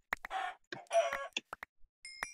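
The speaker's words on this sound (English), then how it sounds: "there are a lot of chickens in my world too" Chickens clucking in a Minecraft-style survival game: a run of short, clipped clucks and squawks with a couple of longer bursts, close and loud, with no talk over them.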